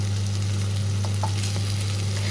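Onion, tomato, coconut, ginger and garlic sautéing in a pan give a steady, close sizzle with a low hum underneath and a few soft stirring clicks, no voices.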